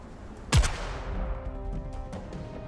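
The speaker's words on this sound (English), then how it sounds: "Dorothy fires her weapon into the air. The gunshot resonates with a bang" A single loud gunshot fired into the air, sound effect, cracks sharply and trails off into a long fading echo with faint rumbling after.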